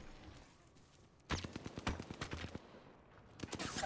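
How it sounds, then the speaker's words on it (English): Rapid bursts of gunfire in Apex Legends, starting abruptly after a quiet stretch and crackling in quick uneven volleys before a final flurry. "Getting shot at!"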